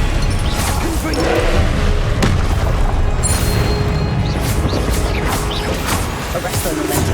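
The Confringo blasting spell goes off in the wizarding game Hogwarts Legacy: loud, punchy booms and whooshing bursts amid constant combat noise, with a voice speaking during the fight.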